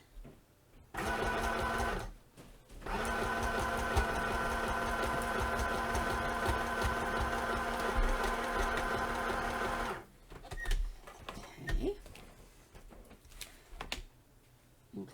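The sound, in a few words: sewing machine sewing lace down the middle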